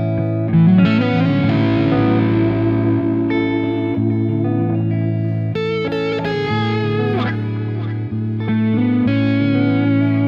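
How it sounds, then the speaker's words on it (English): Heavily distorted electric guitar plays sustained chords and notes, loud and thick with a gritty, saturated tone and no talking. "I also tried distortion."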